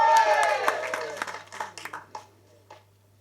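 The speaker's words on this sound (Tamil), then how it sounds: "நீங்களே ஒரு தடவை கைத்தட்டிருங்க" Audience at a Tamil film audio launch for the movie Kakka claps, a burst of applause that thins into scattered, fading claps over a few seconds.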